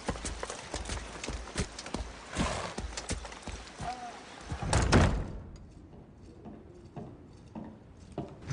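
Horse hooves clip-clopping in a brisk irregular rhythm, close and moderately loud, swelling to a heavier thud around midway before fading to faint scattered steps.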